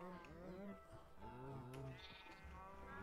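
Bleating sheep in the video game Minecraft, several wavering high bleats overlapping, faint and under someone talking.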